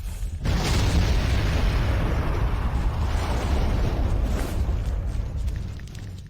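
A deep, rumbling explosion erupts inside a multi-storey building and roars on for several seconds, with crackling debris and a slow fading tail.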